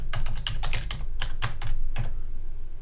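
Computer keyboard typing as database name, username and password are entered during a WordPress setup: a steady run of close, crisp keystrokes with short pauses between bursts, and no talking.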